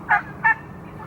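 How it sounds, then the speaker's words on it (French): Turkeys among chickens on a large poultry farm, with two short, loud gobbling calls in quick succession over a low, quiet background. "il y a vraiment plusieurs endroits où il y a des poulets et des dindes"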